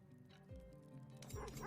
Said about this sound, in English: First, I'm going to feed the dogs.